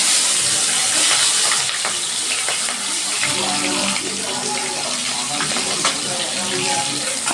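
Small puti fish hit hot mustard oil in a pan, giving a steady loud sizzle and hiss with crackling spits that continues throughout without pause.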